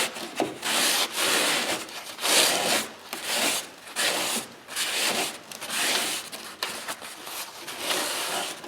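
A cloth soaked in acetone is rubbed back and forth over a plastic bumper cover on a 2007 Tiburon SE, producing rhythmic, scratchy swishing strokes in quick bursts, close and fairly quiet.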